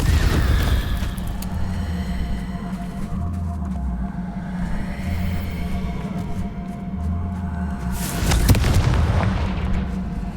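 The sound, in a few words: explosion from Confringo spell in Hogwarts Legacy video game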